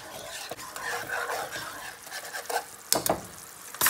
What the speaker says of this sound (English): going to sprinkle this in, and then really quickly stir again